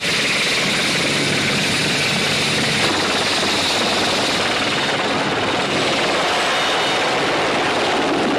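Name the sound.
helicopter flying in a film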